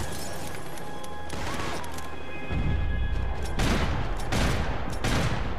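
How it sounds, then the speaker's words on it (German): Heavy gunfire in Max Payne 3 as shots pour from a boat into a car, a dense loud fusillade of crackling bursts and impacts that swells in the second half amid game noise. "Vom Boot aus dem Wagen ordentlich beschießen."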